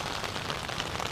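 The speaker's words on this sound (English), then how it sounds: "it's raining" Steady rain falls on a surface on an early morning before a motorcycle ride, a dense, even hiss of many drops throughout with no talking.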